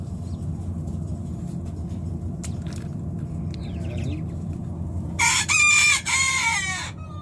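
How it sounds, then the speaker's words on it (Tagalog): A rooster crows loudly and close by among pens of quail and pigeons, one long strained call near the end, over a steady low background rumble. "Tilaok pa ng tilaok."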